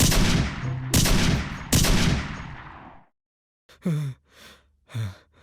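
Three loud gunshots in quick succession, each with a long echoing tail, followed by silence and a few heavy, breathy gasps.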